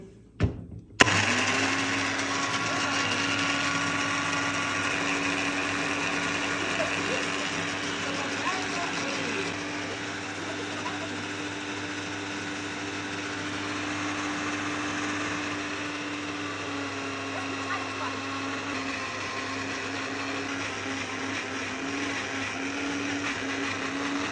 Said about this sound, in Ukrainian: накриваємо кришечкою і включаємо міксер